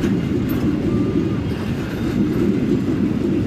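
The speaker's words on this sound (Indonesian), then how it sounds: "Nah, ini ada kereta kontainer" A container freight train rolls past at a rail junction near Jakarta, a loud, steady, close rumble of wheels and wagons that holds evenly throughout with no pauses or voices.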